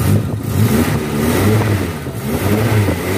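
A 1993 Suzuki Katana with a tin body, its engine revved by the throttle in a steady, loud, continuous drone that rises and holds throughout, close by with no talk.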